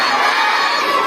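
A crowd at a Republic Day gathering at a madrasa in India shouts a patriotic slogan together, a loud, sustained massed roar of many voices, children among them, filling the space without pause.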